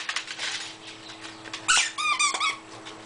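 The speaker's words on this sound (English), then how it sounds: "Squeaker. Squeaker. Squeaker." A dog's squeaky toy lets out several quick, high squeaks, a short burst followed by a run of rapid squeezes near the end, close and fairly loud with faint rustling beneath.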